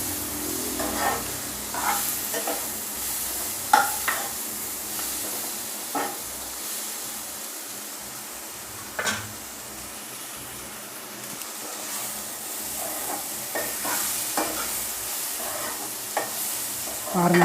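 Carrot, tomatoes and onions sautéing in oil in a pan, a soft continuous sizzle broken by repeated scraping stirs of a spatula, close and moderately loud with no talking.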